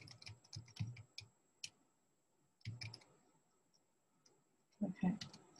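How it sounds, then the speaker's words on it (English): Rapid clicking of keys on a keyboard comes in three separate bursts with quiet pauses between, close and fairly faint. "now typing here"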